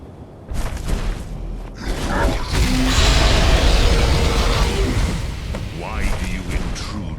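The Greybeards' Thu'um dragon shout in Skyrim, on the peak of the Throat of the World: a deep, booming, rumbling roar that swells and holds for several seconds, loud and close, with echoing tones fading afterward.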